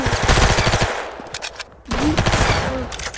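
Gunfire rattles in the Roblox shooter Arsenal: two loud bursts of rapid automatic shots close up, separated by a short near-silent gap, with no talking.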